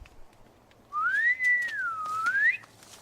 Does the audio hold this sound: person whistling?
yes